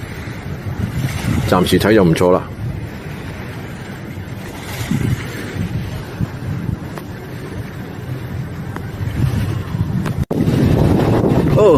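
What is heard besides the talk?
water sounds at the seaside at night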